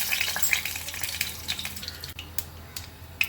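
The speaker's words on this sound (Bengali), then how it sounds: "গরম মশলা আর জিরে ফোড়ন করলাম" Garam masala and cumin seeds crackle and sizzle in hot oil in a home kitchen, a bright steady hiss with scattered pops and a few sharper clinks, fading slightly toward the end.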